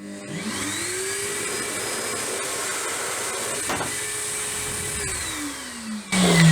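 A corded Evolution R15VAC suitcase vacuum cleaner used as a blower runs steadily with a loud airy roar and rising then falling whine, ending in a sudden louder blast of air.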